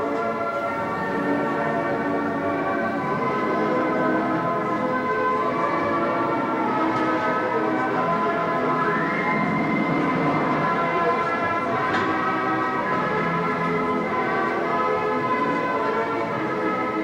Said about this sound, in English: It's an 8-hour train trip that leaves Leningrad to the strains of the city's own theme.